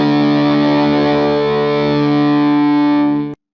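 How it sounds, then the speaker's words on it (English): An electric guitar played through a Line 6 Pod Express amp modeler with heavy distortion rings out as a single loud, saturated sustained chord that holds steadily for over three seconds before cutting off abruptly. "that's too much distortion"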